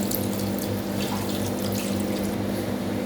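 Water is poured into a pot of chicken biryani as it is assembled, a steady continuous splashing stream with no talk.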